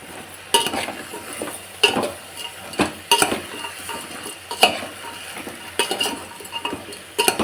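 A spoon stirs salt and turmeric into black-eyed pea sambar in a metal pot, giving a steady run of scraping clinks about once a second, close and clear, with no talking.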